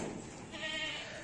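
One goat bleats briefly and faintly on a farm, a wavering nasal cry rising over quiet background noise, without clear speech.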